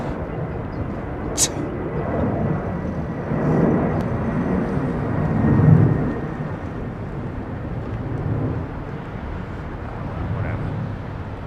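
An airliner comes in for a crosswind landing at London Heathrow Airport, heard as a continuous broad roar and rumble from a distance that swells gently a couple of times over about eleven seconds.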